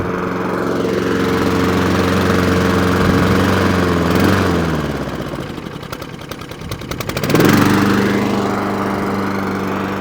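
Masport Rotarola lawn mower engine running steadily and loud after a slight governor adjustment, its pitch dipping and wavering midway before settling back to an even, faster idle.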